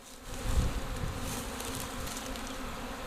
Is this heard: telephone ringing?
no